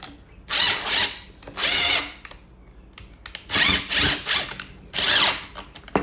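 A power drill drives into wood about half an inch from the edge in a garage workshop, sounding in four separate whirring bursts with short quiet gaps and faint clicks between them.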